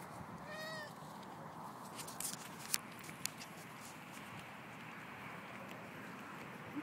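An orange cat out on a walk with a companion named Peanut, giving a short meow early on amid steady outdoor background noise, followed by a couple of faint ticks and soft movement sounds.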